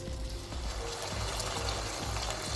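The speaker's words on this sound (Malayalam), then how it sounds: "ഒരു ഇരുന്നൂറ് മില്ലി ഒരു കപ്പ് വെള്ളം ഒഴിച്ചു കൊടുക്കണം" About a cup of water pours steadily into a pan of eggplant curry, a continuous gushing, splashing sound close by with no talking.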